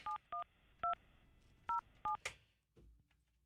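Short electronic touch-tone beeps as a phone number is dialed, five or six tones spaced irregularly, followed by a faint click.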